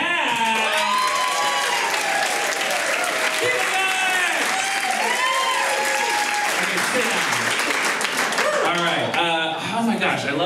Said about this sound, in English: I want a big round of applause for Mr.